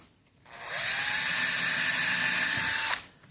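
A power drill bores a pilot hole through steel at a weld point, spinning up to a steady high whine for about two and a half seconds, then cutting off abruptly.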